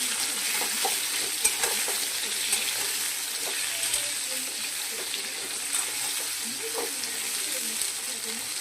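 Eggplant and chopped onion fry in a pan while being stirred, giving a steady close sizzle with small scraping and clinking taps from the spoon throughout.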